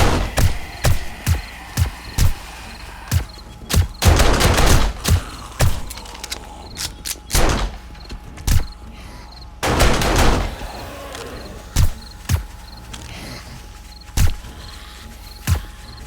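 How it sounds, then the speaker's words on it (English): Gunfire in the zombie survival game 7 Days to Die: loud, sharp single shots and short bursts spaced irregularly, some closely clustered, over a faint steady insect-like chirping ambience with no talk. "I think I might start shooting a few."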